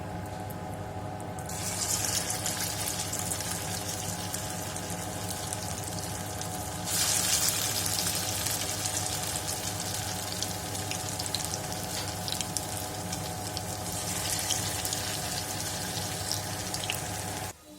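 Drumstick flower fritters deep-fry in hot oil with a loud, steady, close sizzle and hiss that runs without a break and swells a little at times.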